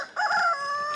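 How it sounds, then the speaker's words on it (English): A chicken rooster crows once, close and loud, with a brief strained cock-a-doodle cry heard outdoors behind a garden. "I'm out here just right behind the chickens."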